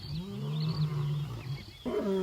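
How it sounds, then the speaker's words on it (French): A lion roars loudly and close, a long deep rumbling call that fades, then a second gruff burst starts abruptly near the end. "cri s'appelle le rugissement."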